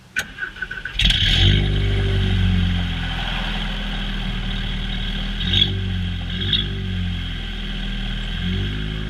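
Volkswagen Golf R MK7 with a 3-inch catted downpipe, its engine catching with a sharp burst and then settling into a steady low exhaust drone. Small blips rise in the middle, heard close with no talking.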